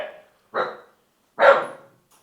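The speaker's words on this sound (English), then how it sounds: "That's the guard dog." A guard dog barks three times, loud and close, with sharp separate barks spaced about a second apart and silence between.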